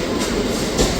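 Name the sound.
train arriving at station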